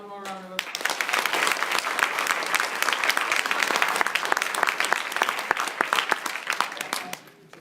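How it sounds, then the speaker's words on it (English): A conference audience gives a loud round of applause, full and sustained with sharp individual claps, close by and fading out at the end, with brief speech at the start. "Let's have one more round of applause."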